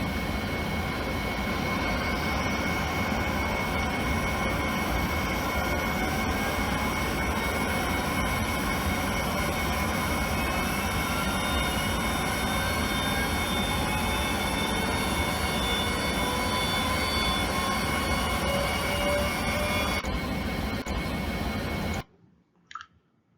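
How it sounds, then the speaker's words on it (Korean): An electric motor accelerating to 4000 rpm in a test recording gives off a dense, continuous whine, its high tones slowly rising in pitch under a broad mechanical roar that cuts off abruptly near the end. "속도가 증가함에 따라서 모터에 의한 소음이 더 고주파수로 증가하는 것을 들을 수 있으며"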